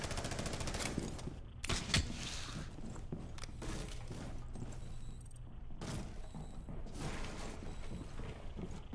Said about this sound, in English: Swapping mag.